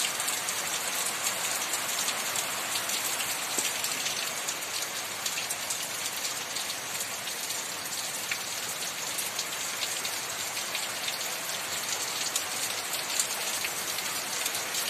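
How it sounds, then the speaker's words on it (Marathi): Heavy monsoon rain drums steadily on a tin sheet roof beside farm fields, a dense, unbroken hiss of countless drops holding the same loud level throughout with no voices. "कसा मुसळधार पडतोय पाऊस।"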